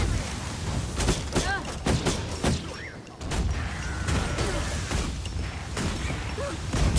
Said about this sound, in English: You're shooting me. Stop shooting me.